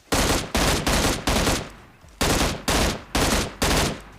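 Loud, close gunfire in PUBG Mobile, fired at a bot: seven sharp bursts in an even rhythm with one short gap between them, and no voices over the shots.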